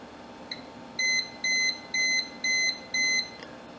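A multimeter on diode test beeps across a dead short on an Amiga 500 rev 6 board: one faint chirp, then five loud, evenly spaced electronic beeps.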